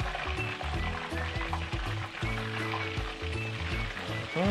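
Oil crackles and sizzles steadily as chicken deep fries, a busy close bubbling hiss with no one talking.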